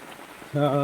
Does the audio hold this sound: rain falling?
yes